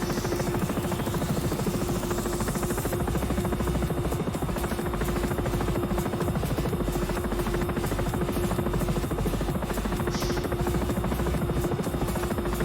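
Sikorsky S-76 helicopter engine in the X-Plane 11 flight simulator, a loud steady turbine whine over a rapid rotor buzz and chop, droning continuously throughout with no talk.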